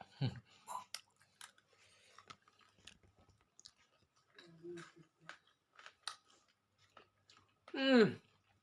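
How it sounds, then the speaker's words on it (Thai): Someone chews sun-dried pork up close, giving soft moist smacks and small clicks spread sparsely over quiet gaps, followed by a short vocal sound near the end. "หมูแดดเดียวครับผม ชิ้นเดิมที่กินนั่นแหละ"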